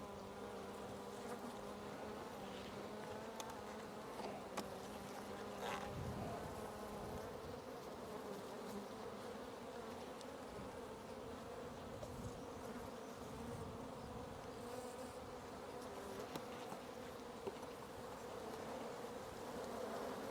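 Honey bees buzz steadily around an open hive during a brood frame inspection, a dense continuous drone with scattered individual bees passing close by, no talking.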